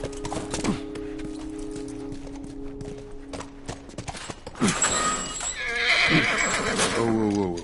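In The Last of Us video game, hooves clop in a steady rhythm, then a horse neighs loudly twice near the close, a shrill whinny trailing off into snorts.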